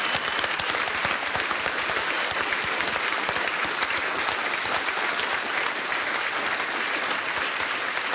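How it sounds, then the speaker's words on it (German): A TV studio audience applauds at a Swiss cooking show finale, dense continuous clapping at a steady level from start to finish with no voices breaking through. "Das ist euer Applaus."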